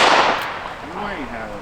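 A single sharp revolver gunshot fired at a target, a loud close crack at the start that decays into a ringing tail, followed by a brief spoken voice.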